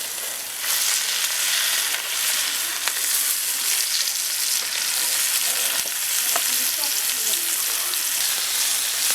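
Large fish frying in a pan over a low flame, giving a steady, dense sizzle with occasional pops and crackles up close.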